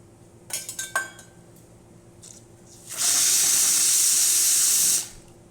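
The hot water wand of a freshly serviced Lelit Bianca v3 espresso machine releases a loud, steady hiss for about two seconds, preceded by faint clinks and handling noises.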